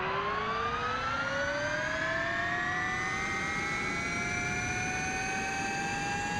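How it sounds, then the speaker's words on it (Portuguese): An electric motorcycle being ridden gives off a loud, steady rising whine, its motor tone sweeping gradually upward in pitch over broad rushing wind noise for the whole stretch, with no talk. "É muito difícil pilotar uma moto elétrica."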